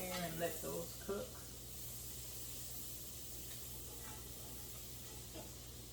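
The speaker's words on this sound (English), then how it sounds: "I'm going to drop some cherry tomatoes in there and let those cook" Cherry tomatoes dropped into a hot pan sizzle with a steady, moderate hiss after a few brief knocks at the start, close by and without talk.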